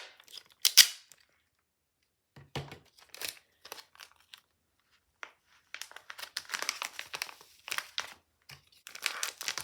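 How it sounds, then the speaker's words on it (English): Packaging tape peeled and torn off a Roblox blind bag, giving sharp crinkling rips and crackles in separate bursts with short gaps, close and fairly quiet, busier toward the end. "take your packaging tape and try not to break it"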